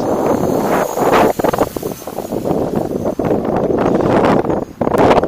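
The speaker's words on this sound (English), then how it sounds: "That is really windy up there." Strong wind buffets the microphone in loud, continuous roaring gusts while a DJI Mavic Pro drone flies high over suburbs, with no other sounds coming through.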